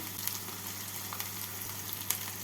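Spice paste with whisked sour curd, ground coriander, cumin, turmeric and Kashmiri chilli powder frying in a pan for egg masala curry, a steady soft sizzle with faint crackles and stirring.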